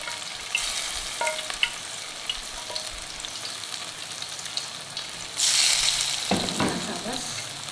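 Whole red chillies fry in oil for a beef Madrasi handi, a soft continuous sizzle with light stirring and scraping. Near the end a brighter burst of hissing rises, then falls back to a low crackle.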